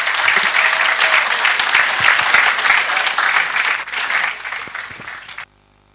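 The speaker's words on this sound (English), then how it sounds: "I want to hear the clapping." Audience clapping at a business event: a sustained, dense round of applause from a crowd that holds steady, then thins out and stops abruptly near the end.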